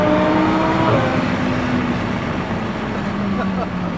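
Lamborghini Sterrato engine with an upgraded exhaust and supercharger, a steady loud droning rumble with a sustained low tone, close and continuous throughout, with no break or pause.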